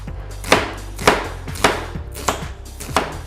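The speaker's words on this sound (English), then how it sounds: "we're going to slice up our onion" A knife slices through an onion on a board, landing in six evenly spaced, sharp thuds about half a second apart, close and clear with nobody talking.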